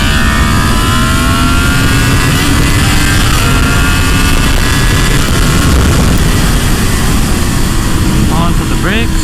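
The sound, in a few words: motorcycle engine revving at full throttle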